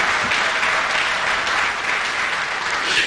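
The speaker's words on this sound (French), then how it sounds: "Applaudissez le panel," Applause for a conference panel fills a large hall, a dense, steady wash of many hands clapping at once, sustained and even throughout with no voices rising above it.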